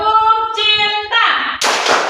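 Children in an Indonesian classroom do the tepuk cinta clapping chant, sharp bursts of claps following sung or chanted voices in a quick rhythmic sequence.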